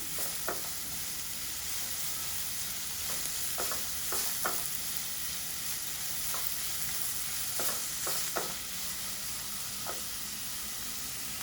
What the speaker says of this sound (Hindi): बस 2 से 3 मिनट आप इसको स्टर फ्राई कर लें